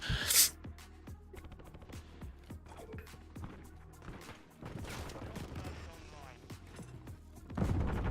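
Hurricane SMG gunfire in Modern Warfare 2, rapid bursts of shots with short pauses between them, fairly close, over a low game background.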